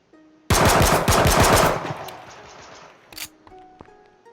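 Hip-fired hand cannon in the video game H1Z1: a rapid burst of loud, close gunshots for about a second, then a decaying tail and one more sharp shot, with small game interface blips.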